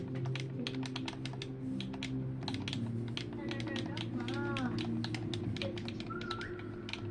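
Rubik's Cube being twisted and scrambled, a steady run of quick plastic clicks and clacks up close, while people chat and faint tones sound in the background.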